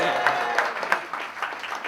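Audience clapping at a fan event celebrating the actor Vijay, a short burst of many hands with sharp individual claps poking through, fairly close and busy.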